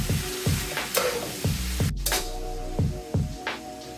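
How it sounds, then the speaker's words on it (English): Collard greens frying with sausage in oil are stirred in a pan, a steady sizzle broken by regular scraping strokes roughly every half second, close and fairly loud with no talking. "periodically you want to mix the collard greens so that they all can get the same treatment"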